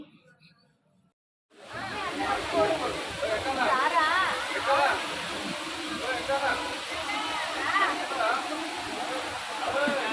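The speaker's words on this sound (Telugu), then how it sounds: "ఇక్కడైతే చిన్న వాటర్ ఫాల్స్ లా ఉంది రోప్వే ఎక్కే ముందు" A small waterfall near a ropeway entrance in the Nepal hills, a steady rushing hiss of falling water that starts abruptly after a brief silence, with voices talking over it.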